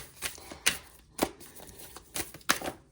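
Tarot cards riffling and snapping in quick bursts, about five crisp shuffles spaced roughly half a second apart, close and fairly quiet with no voices.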